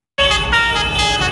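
Car horns blare loudly and continuously at a joint farmers' and fishermen's protest in the town centre of Boulogne-sur-Mer, several overlapping honks sustained without a break.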